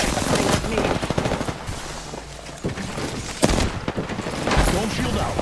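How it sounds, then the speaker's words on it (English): Gunfire rattles through an Apex Legends fight, rapid bursts of automatic shots with a few heavier booms, loud and continuous over the game's background noise. "I'm taking fire."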